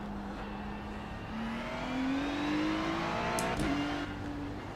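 LMP2 prototype race car in a racing game at the Nürburgring Combined circuit, its engine droning steadily and rising in pitch through the gears, close and alone with a brief rasp near the end.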